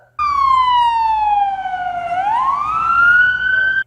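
A loud ambulance siren sweeps steadily downward, then rises again in one long continuous tone, close and clear.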